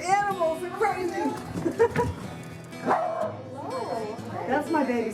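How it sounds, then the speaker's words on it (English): Several small dogs barking and yipping excitedly indoors, sharp repeated yaps mixed with whimpers, close and fairly loud, with people talking over them. "Sorry about my dogs."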